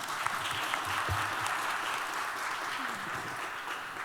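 A large audience at a Seoul town hall meeting for a global youth climate challenge gives a sustained round of applause, an even, dense wash of clapping with no pauses.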